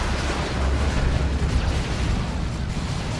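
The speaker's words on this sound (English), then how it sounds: "There's a Katichan smoke grenade again." A smoke grenade goes off in a Dawn of War 2 3v3 battle: a sustained, loud, hissing and rumbling wash with dull booms, steady for the whole stretch amid battle noise.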